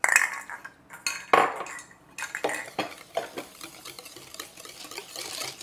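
Two large eggs and two-thirds of a cup of sugar being mixed for banana bread batter, with a utensil scraping and clinking against a bowl in irregular, close bursts.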